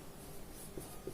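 Pen or chalk writing out a lens formula while solving a Class 10 science exam problem, a faint, steady scratching and rubbing with a couple of slightly firmer strokes, close and quiet with no speech.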